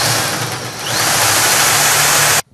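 A power drill bores a hole into a wall for mounting a shelf, a loud, close, continuous whirring grind that rises in intensity and then cuts off abruptly.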